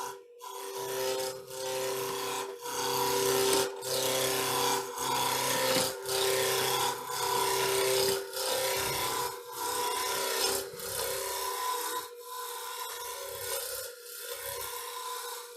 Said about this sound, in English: So I'm just going to use my spindle roughing gauge on here and just rough that down to a cylinder to start with.